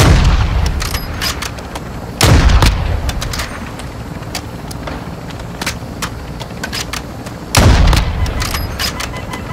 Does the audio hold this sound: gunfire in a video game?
yes